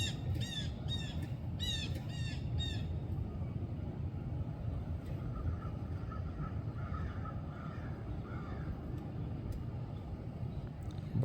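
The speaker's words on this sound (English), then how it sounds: "Blackbirds." Blackbirds in a snowy winter landscape give a quick run of harsh, cawing calls in the first few seconds, followed by fainter, scattered calls over a steady low background rumble.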